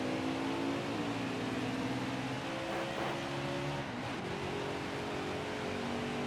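Stock car engine in the video game NASCAR Heat 5, Xfinity Series race, droning at full throttle with a steady high whine that dips briefly as gears shift, loud and continuous throughout.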